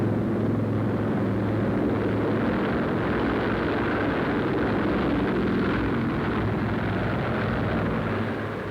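Four big piston engines of a Navy Mars flying boat on its maiden flight roar as a steady, loud, continuous drone with a deep rumble, holding level throughout with no talk.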